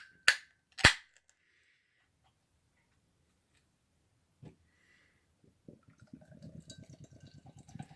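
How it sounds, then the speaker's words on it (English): Hazy Tropical Haze IPA from Great Rhythm Brewing poured from a can: two sharp, loud cracks at the start, a quiet pause, then a soft thud and a rapid run of close gurgling glugs as the beer fills the glass. "Let's go ahead and give this a pour."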